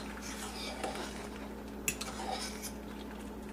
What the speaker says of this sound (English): Let's stir our pasta.